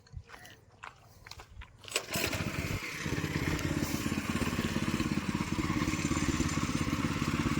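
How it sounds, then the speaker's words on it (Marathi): A tractor ploughs a field in a Konkan village, its engine starting up and then running with a steady, loud rumble and rhythmic chugging that dominates the scene after a few seconds of scattered clatter. "इकडे आता उकळ घालतात बघा ट्रॅक्टरने"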